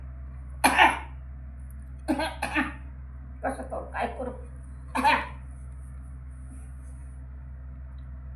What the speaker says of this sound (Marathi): मला खोकला यायला, दमा यायला